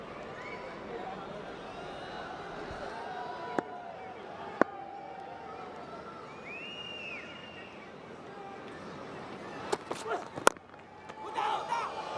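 Large evening cricket stadium crowd at an HBL PSL match between Lahore Qalandars and Peshawar Zalmi, a steady distant murmur of spectators with a few sharp shouts and whistles, under commentary.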